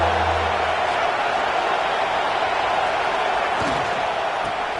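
A football stadium crowd at a UNC versus Tennessee game rises into a loud, sustained roar, a constant wall of cheering with a brief low thud near the start.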